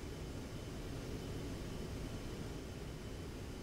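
An A-10C jet cruises in DCS World, a steady, even engine and wind roar holding at constant loudness throughout with no other sounds.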